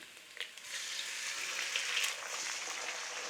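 Eggs cracked into a hot pan for egg fried rice hiss and crackle loudly, a brief tap near the start and then a bright sizzle that holds steady without pause.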